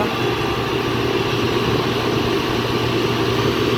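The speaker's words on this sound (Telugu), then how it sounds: "వెళ్ళిపోతుంది ట్రక్." A loaded truck pulls away at a sugar loading site, its low steady engine drone continuous and fairly loud throughout, with no talk.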